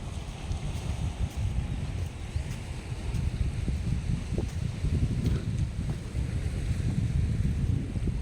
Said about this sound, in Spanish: se están acercando las olas ya